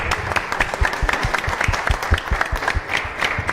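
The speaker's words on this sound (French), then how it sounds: "on peut les applaudir bien fort" An audience applauds a musical duo on a Christmas broadcast show, a dense, steady burst of clapping from a crowd that stays loud and continuous throughout.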